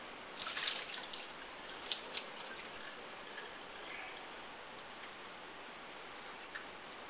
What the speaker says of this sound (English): Now the mushrooms, we're going to drain them.